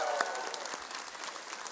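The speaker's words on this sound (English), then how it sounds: "Let's give them one more big round of applause." An audience claps at a community event. The applause is steady and moderately faint, made of many scattered hand claps, and carries on for the whole stretch with a brief voice near the start.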